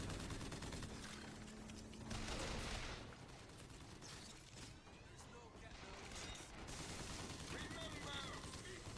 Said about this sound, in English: When I'm trying to take down the second barge, I use the chain gun because it's quicker